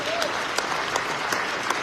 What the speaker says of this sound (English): Give them a round of applause for the fine work that they did.